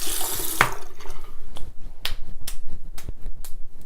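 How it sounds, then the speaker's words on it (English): Tap water runs briefly as a forearm is wetted to wash off makeup swatches, a short hiss followed by scattered wet clicks and taps close by. "just get my arm wet."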